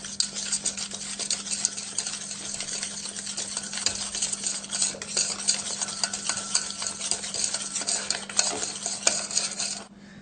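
Egg yolks, sugar and cornstarch are whisked together in a bowl for a praline mille-feuille cream, a fast continuous scratchy churning close to the mic over a low steady hum, ending abruptly, with no speech.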